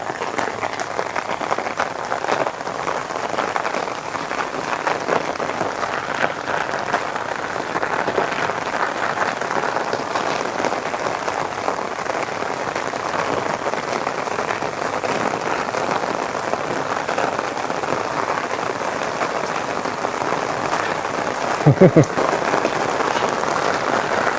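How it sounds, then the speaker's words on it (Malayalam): Steady rain pours down evenly and close by, a dense unbroken patter that fills the whole stretch, with one brief knock near the end. "പെട്ടെന്ന് മഴയായിപ്പോയി കേട്ടോ"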